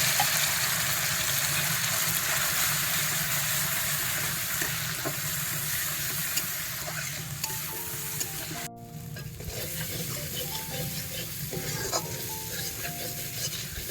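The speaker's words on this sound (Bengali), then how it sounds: "পেঁয়াজ আর রসুনটা ভালো করে ভেজে নিয়ে দিয়ে দিচ্ছি" Onion and garlic paste fries in a pan over a nigella and dried-chilli tempering, making a constant close sizzle with occasional stirring scrapes and a few clinks.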